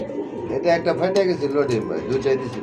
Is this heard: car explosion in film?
no